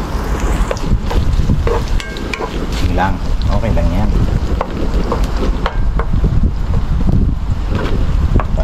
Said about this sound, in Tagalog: Tuwing magluluto ako dito, inaatake ako ng hangin.